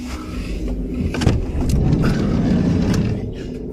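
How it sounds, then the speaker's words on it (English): A car engine rumbles outside at night, a moderate steady drone with a few brief clunks, heard from nearby. "There's a car pissing about up there."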